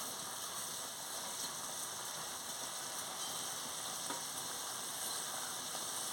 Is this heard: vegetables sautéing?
yes